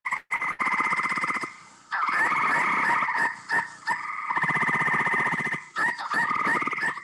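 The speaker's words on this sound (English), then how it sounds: "But that's the American toad. They have this really long trilling sound." Loud, close American toad trilling in long sustained bursts, a rapid buzzing pulse that stops and restarts several times.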